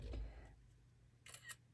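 An iPad camera gives a short, faint shutter click as a picture is taken, a quick double tick coming near the end after soft handling noise in an otherwise quiet room.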